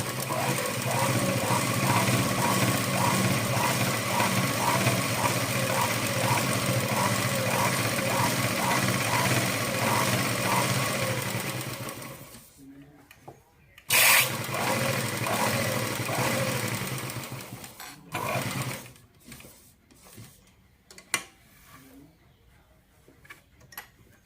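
A sewing machine runs a double stitch along a fabric edge with a fast, steady mechanical ticking. It is close and continuous for about twelve seconds, then stops, leaving a few short bursts and handling noises.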